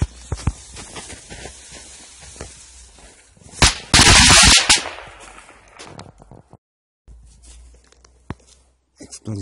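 A Chinese-made Explosive VI firecracker battery rated at 70 shots goes off outdoors with a sudden loud burst of rapid cracks lasting about a second, framed by quieter scattered pops and background rustling.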